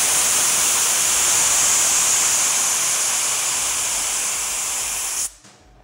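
A Kegland ball lock disconnect released at 60 PSI gives a loud, steady hiss of escaping gas, holding strong for several seconds before cutting off abruptly, close by and with no voices.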